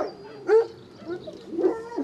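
Hunting hounds bark and yelp while being loaded for a hunt in France, two short bursts of barking standing out over quieter background noise, fairly close.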